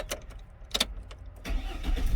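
A GMC Sierra or Chevrolet Silverado pickup's engine cranks in a few short bursts, then catches and settles into a low idle rumble, heard close with no talking.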